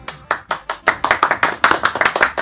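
Hands clapping in a quick, uneven rhythm of sharp slaps, a handful of claps speeding into a denser run over a couple of seconds, close and fairly loud.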